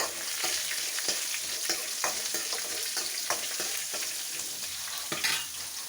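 Food sautés in a pan with a lemon-juice dish cooking for a breakfast and lunch meal, a continuous close sizzle punctuated by frequent stirring scrapes and taps, with no talk.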